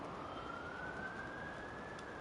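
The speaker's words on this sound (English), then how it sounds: "I hear sirens." Police sirens wail faintly from a distance across a dark freeway in the video game Viewfinder, a thin rising tone over a low steady hum, with no one talking.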